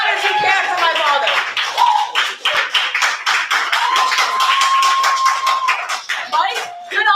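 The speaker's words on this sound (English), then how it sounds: "Clap as loud as you can for my father." Loud, close clapping from an open mic audience at a Halloween poetry party, with dense broadband hand claps running throughout, a few whoops and whistle-like tones over it.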